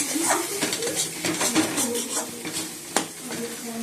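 Spice paste stir-fried in oil that has separated, a busy close-up sizzle with constant scraping and stirring strokes and one sharp clack of a spoon on the pan near the end.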